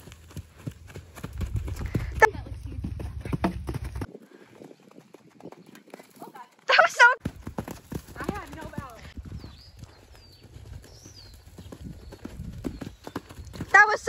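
A horse being ridden, its hooves clip-clopping in a steady rhythm at moderate distance, with a brief whinny-like burst partway through and people talking over parts of it.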